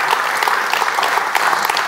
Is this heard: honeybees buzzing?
no